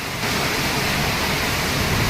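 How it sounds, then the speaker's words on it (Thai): Heavy rain in a strong windy storm at a home with trees nearby, a dense, loud and steady roar of falling water with no letup. "นานแล้วไม่ได้เจอฝนตกหนักขนาดนี้"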